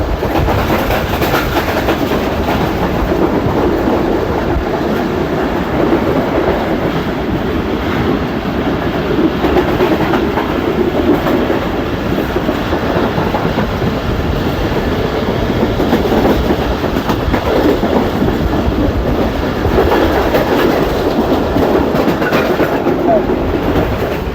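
Tezgam 8 Down passenger train running near Gujrila village by the Grand Trunk Road, a steady loud rumble of rolling wheels and clattering carriages, with wind noise throughout and no clear speech.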